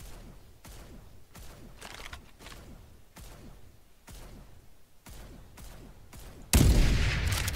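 Rapid bursts of gunfire in the video game Far Cry 5, a steady series of sharp shots roughly every half second, ending in a loud, sustained blast of noise.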